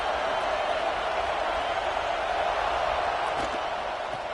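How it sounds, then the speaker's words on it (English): A football stadium crowd roars in the early going of an Ohio State game, a steady, distant wash of cheering that holds evenly throughout without distinct voices. "Listen to the crowd energy here in the early going"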